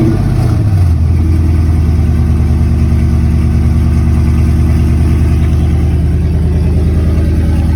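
A 2010 Jeep Grand Cherokee SRT8 V8 cranks and catches with a short rising burst, then settles into a loud, steady, deep idle with a lumpy rumble that holds close to the microphone throughout.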